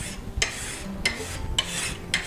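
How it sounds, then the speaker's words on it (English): A metal file rasps across the edge of a steel card scraper in four short, evenly spaced strokes, close and fairly quiet. "I'm using, again, my fingers to brace against the edge of the face of the scraper and then hold the file"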